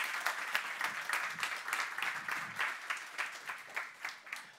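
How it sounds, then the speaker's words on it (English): Audience applause after a talk at a WordCamp conference, a room of people clapping steadily, moderately loud and fading slightly toward the end, with no voices over it. "So I think we should all give a big and warm applause to Ulrich"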